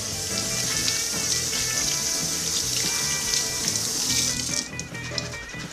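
Water runs steadily from a kitchen sink tap while beet leaves are washed under it. The hiss is constant and fairly close, with small splashy fluctuations, then it shifts and thins near the end. No voice is heard.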